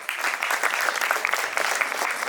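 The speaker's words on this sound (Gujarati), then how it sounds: "આ દીકરી માટે જોરદાર તાળીઓ થઈ જાય" Audience at a school graduation ceremony applauding a girl, a sustained burst of dense, fairly loud clapping from many hands throughout.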